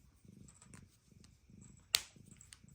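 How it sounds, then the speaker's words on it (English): A cat purrs softly in slow, rhythmic pulses, close by and quiet, with one brief sharp click partway through. "You came to purr at the folks."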